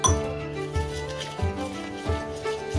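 A spoon clinks and scrapes rhythmically against a bowl while vada batter is mixed, steady strokes repeating close up, with no talking.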